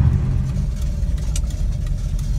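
A 1987 BMW E30 four-door fitted with a 2005 330 engine drives along, its steady, loud, low engine drone heard from inside the cabin with road rumble and no talk.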